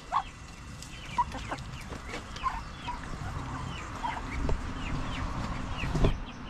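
Several backyard chickens cluck and squawk in short bursts nearby, with scattered calls over a quiet outdoor background.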